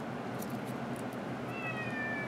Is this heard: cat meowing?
yes